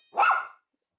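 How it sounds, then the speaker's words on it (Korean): A poodle barks once close by, a single sharp, loud bark alone in an indoor setting, with no other sound around it. "짖기 바쁜데요"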